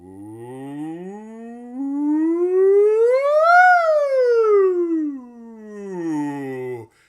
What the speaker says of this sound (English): is simply to do a glissando up and down all the way from the bottom of my range to the top